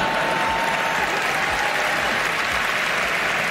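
A large awards-show crowd at the 2024 Emmys applauds steadily through the opening monologue, a dense, continuous wash of clapping heard alone.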